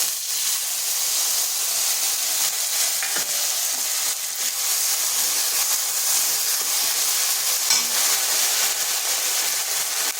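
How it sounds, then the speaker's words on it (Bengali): Spice paste frying in a pan with nigella seeds, dried red chili and turmeric for a Bengali fish dish, a steady loud hiss and sizzle throughout with faint stirring scrapes and no talking. "মশলাটা একটু কষে নিচ্ছি"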